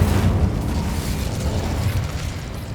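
A fire spell cast in Hogwarts Legacy, heard as a steady, loud, low roaring burst of flame that rumbles on without a break.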